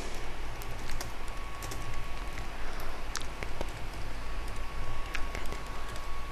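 Typing on a computer keyboard, a close, steady run of light plastic key clicks with a few louder taps, over a constant low room hum.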